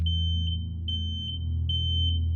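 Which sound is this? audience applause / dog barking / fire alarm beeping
fire alarm beeping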